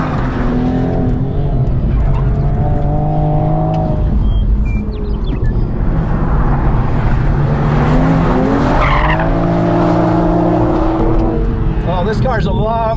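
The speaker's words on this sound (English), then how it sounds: "we're in the 6-cylinder version of the new Supra" A 2021 Toyota Supra with the six-cylinder engine pulls hard through the gears, its loud engine note rising and shifting steadily, with people talking and whooping over it.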